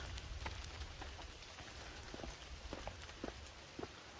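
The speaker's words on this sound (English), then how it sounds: "it's starting to rain" Light rain starting to fall outdoors, a faint soft patter of scattered drops on surfaces over a steady hiss, with no talking.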